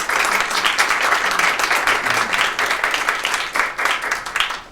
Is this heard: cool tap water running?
no